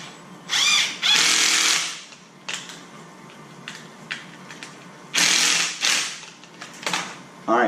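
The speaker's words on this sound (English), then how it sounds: "we're going to screw it into that hole that we just pre-drilled" A cordless power drill drives two 1-inch screws into a pre-drilled biodegradable block on a stone crab trap, whirring in several short high-pitched bursts with clicking pauses between them, close and loud.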